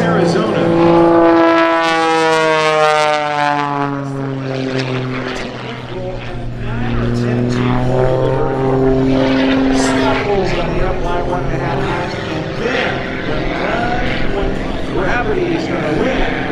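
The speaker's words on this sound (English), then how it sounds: "He'll let the airplane come back through with a hammerhead stall turn." Kirby Chambliss's aerobatic propeller airplane makes passes at the MCAS Miramar Airshow 2022. The loud engine roars up and down in pitch as it sweeps past, with repeated rising and falling drones throughout.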